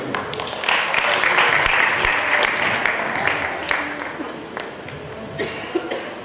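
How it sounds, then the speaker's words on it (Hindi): An audience at a book launch event claps loudly and continuously for several seconds. The applause thins slightly toward the end, with a few scattered louder claps. "जोरदार तालियां दोस्तों।"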